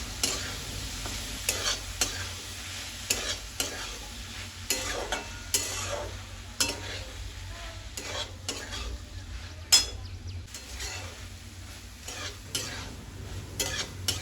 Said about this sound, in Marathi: हे सर्व चांगले एकजीव होईल तोपर्यंत चांगले परतून घेणार आहे